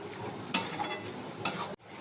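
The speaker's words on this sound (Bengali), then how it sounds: "যতক্ষণ না তেল ছাড়ছে কষাতে হবে।" Masala spices stir-fried in oil in a pan for a chicken masala curry, a spoon scraping and stirring steadily against the metal amid a soft sizzle, with two louder scrapes before it cuts off abruptly.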